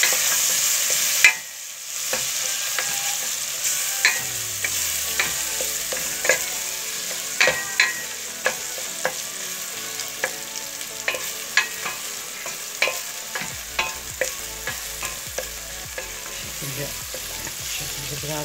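Tomatoes sauté in a pot for a Turkish dried bean dish, a steady close sizzle with a spoon scraping and stirring in repeated clicks and taps throughout.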